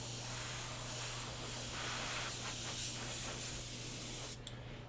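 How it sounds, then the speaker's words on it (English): An airbrush sprays PAX Paint makeup with a continuous, soft, close hiss that flutters slightly in strength throughout, steady and alone. "I like the airbrush. It's fast, it's hygienic, it has a really nice soft edge to it."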